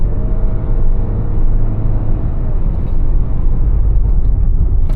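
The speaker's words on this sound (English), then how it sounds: "Here on the highway, there is some road noise, some tire noise, but it's not unacceptable." Steady road and tire roar inside a 2025 Mazda CX-70 plug-in hybrid cruising on the highway: a continuous low rumble with an even hiss, constant in level throughout.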